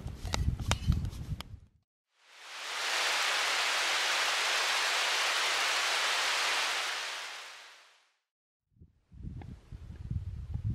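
Rain falls through the night at a lakeside camp on Olkhon Island, making a steady, dense broadband hiss that swells in, holds for several seconds and fades out, with other faint sounds before and after.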